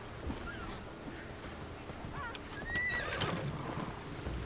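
A horse in Assassin's Creed Odyssey gives a bright, wavering whinny midway, set against soft hoof clops and ambient game noise, moderately close and fairly quiet.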